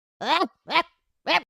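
A man mimics a barking dog with his voice, three short loud bark-like shouts spaced apart, close and alone with no other sound between them.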